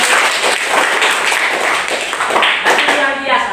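A classroom of students claps together, a loud brisk burst of many hands that stays fairly even before tapering slightly at the end.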